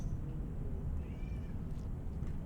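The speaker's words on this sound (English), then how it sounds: "Oh my god, Cat is freaking out" A distressed house cat meows repeatedly near a door, its calls agitated and fairly close over a steady low background hum.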